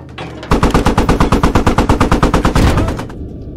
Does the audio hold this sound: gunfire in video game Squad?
yes